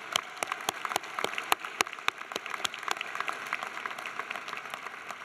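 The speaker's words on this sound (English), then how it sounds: "Let's give all the mothers a round of applause." Audience applause at a university law school commencement ceremony honoring mothers, a steady spread of hand claps from a crowd heard from a distance, fairly faint, with no talk.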